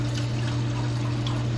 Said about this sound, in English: I'm going to pour in 3 cups of water